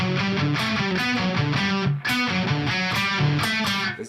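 Music pushed through heavy distortion at a live jam, loud and dense with a steady rhythmic pulse and one brief dropout midway, no voices over it.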